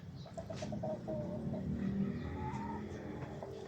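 Chickens cluck and a rooster calls in a busy yard, several birds close by with a steady low rumble of background noise.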